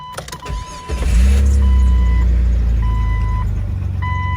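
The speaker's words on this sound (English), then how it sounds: "Let me start her up and show you the rattling sound that I'm talking about" A high-mileage car engine cranks and starts, then settles into a loud, rough, rattling idle with a constant rumble and a steady chime beeping intermittently.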